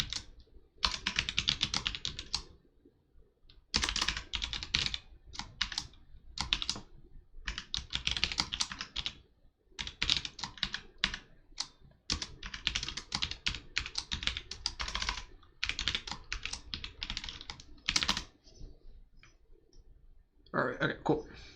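Typing on a computer keyboard, fast bursts of clicking keystrokes broken by short pauses, close and clear throughout with no talking.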